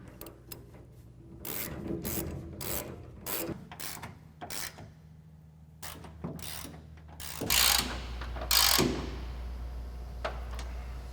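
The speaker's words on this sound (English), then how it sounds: "With our top bolts tightened, we can now tighten our two bed bolts." Ratchet tightening the bed bolts of a front MOLLE panel on a 2014-2021 Toyota Tundra, bursts of rapid clicking pawl strokes separated by short pauses, close and fairly quiet, with no talking.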